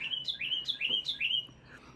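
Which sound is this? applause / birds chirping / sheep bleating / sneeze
birds chirping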